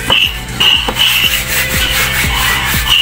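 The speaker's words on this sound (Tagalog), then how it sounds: "Yan, katamin na natin" A hand plane shaves the surface of an old wooden cabinet during repair, giving quick rhythmic rasping strokes roughly every half second, close and fairly loud, with no voices.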